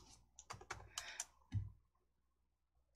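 Computer keyboard keys typed in a quick cluster of clicks, ending in a firmer single press of the Enter key, faint and close in an otherwise quiet room.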